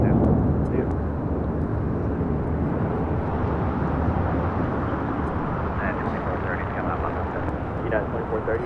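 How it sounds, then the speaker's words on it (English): A JetBlue Airways Airbus A321 in Mint livery rolls at Los Angeles International Airport, a steady, moderately loud jet engine rumble lasting throughout, with talk over it. "That was JetBlue Airways in the first Mint livery, Flight 100 heading to Fort Lauderdale, Florida, and then A321."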